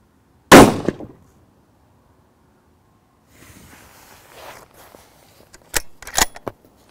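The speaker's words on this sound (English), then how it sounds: "we're just gonna take a shot with your standard muzzle device on here" A single loud, sharp 6.5 Creedmoor rifle shot fired through a standard muzzle device cracks out near the start and decays quickly, followed later by quieter shuffling and a few sharp clicks and knocks.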